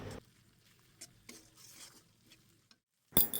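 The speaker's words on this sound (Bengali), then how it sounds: "এখন আমি মশলাটাকে ভালো করে কষিয়ে নেব" Spice paste cooking down in a pan, a quiet low sizzle with soft scraping and stirring strokes, a brief pause near the end and then a louder clatter of utensil against pan.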